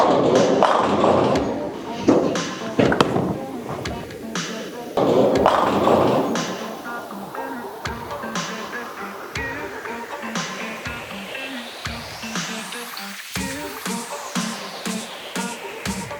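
A Roto Grip RST Hyperdrive Pearl bowling ball rolling down a lane and crashing into pins, loud thuds and rumble followed by scattered clattering impacts amid bowling alley noise and voices.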